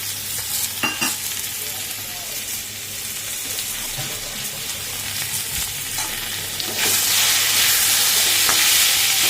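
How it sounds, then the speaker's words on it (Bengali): Onions frying with taro in a pan for a mukhi kochu curry, a continuous sizzle with stirring scrapes that grows louder and hotter near the end. "এবার এটা ভালো করে ভাজবো, ভেজে তারপরে দেখাচ্ছি।"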